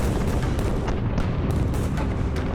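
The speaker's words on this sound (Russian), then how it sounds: "В Мантуе раздаются взрывы, но ее стены еще не пробиты." Steady, dense rumble of artillery fire, cannon and mortar shells bursting during a siege bombardment of a walled city, continuous loud booms layered on each other with no talk.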